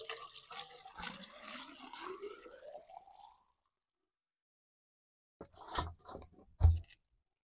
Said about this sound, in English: And we make sure that the pipe is full of water.